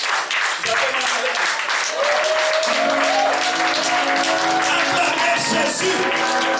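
A church congregation breaks into loud, sustained applause and cheering, with a tonal sound like singing or an instrument rising beneath the clapping.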